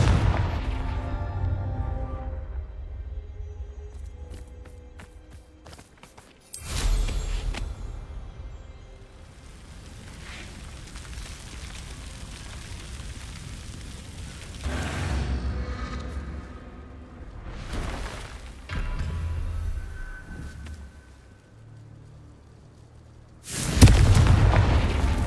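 Confringo fire-blast spells in the video game Hogwarts Legacy, several loud explosive booms spaced across a stretch of combat, each a sharp bang with a rumbling tail, the last one loudest, amid quieter game ambience.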